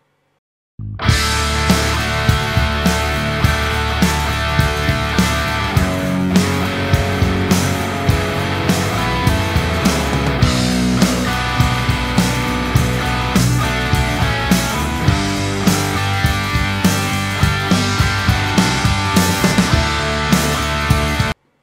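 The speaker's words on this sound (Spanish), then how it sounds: "solamente la guitarra sin ningún tipo de procesamiento" A distorted electric guitar, unprocessed and not run through a Warm Audio WA-2A compressor, plays with a full band and steady driving drums, sounding dense and loud from start to finish with no talking.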